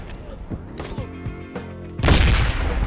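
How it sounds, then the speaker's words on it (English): Gunfire in Ride to Hell: Retribution arrives as a rapid string of shots. A louder, dense burst of firing takes over near the end, loud and close, alongside other game sounds. "Just keep shooting him."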